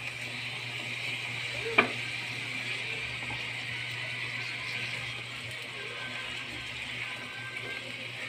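A Filipino meat dish is stirred as it fries in a pan, with a low steady sizzle throughout and one sharp clink of the utensil early on.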